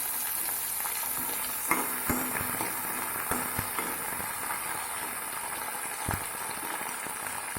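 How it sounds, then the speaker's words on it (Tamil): Garlic and spices sauté in a pan for a Tamil sundakkai kulambu, a steady soft sizzle broken by occasional scraping stirs and light clinks of a spoon, close and fairly quiet, with no talking. "பூண்டு, எல்லாத்தையும் சேர்த்து நல்லா வதக்கிக்கோங்க."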